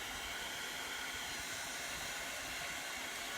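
A hair dryer blows steadily over a freshly applied craft transfer layer with a 'Hello Autumn' and leaves design: a continuous, even, close whooshing hiss with no pauses and no voices.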